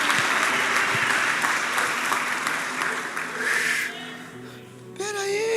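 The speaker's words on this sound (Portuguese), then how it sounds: "Quem crê, aplaude e glorifica." A church congregation applauds loudly during a worship service, the clapping tapering off after about four seconds before a voice begins speaking.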